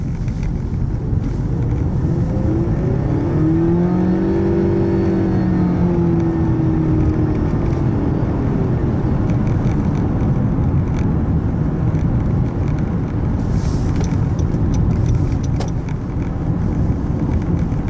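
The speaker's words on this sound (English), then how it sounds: "I'm gonna go ahead and punch it. Let's see what it sounds like." A 2014 Honda Accord Hybrid engine revs hard at full throttle, its pitch sweeping up then easing, over constant road and wind noise inside the cabin.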